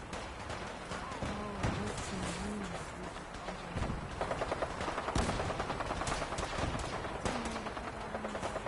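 Rapid gunfire from the video game Fallout 4: dense, overlapping bursts of shots, like an automatic weapon firing, run steadily through the clip, loud and busy, with sharper spikes near the middle.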